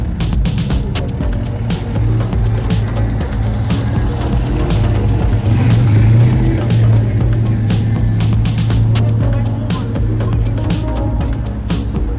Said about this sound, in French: Dixième voiture.